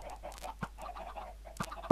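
Short clucking calls from video game chickens, a couple of sharper squawks standing out, fairly quiet with no talking.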